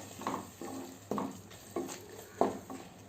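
Methi matar masala with garam masala and fresh coriander being stirred in a pan, a spoon scraping the pot in four or five separate strokes with a faint sizzle underneath.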